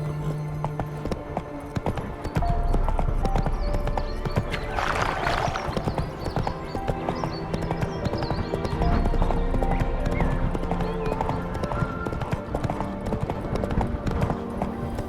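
Roach, a horse in The Witcher 3, gallops with a steady, rapid clip-clop of hooves under ambient game sound, and a brief whinny partway through.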